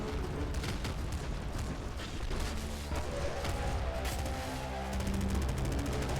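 Missiles fire in the game Nuclear Throne amid a dense, continuous wash of loud blasts, crackling explosions and chiptune-like game tones, with no talking.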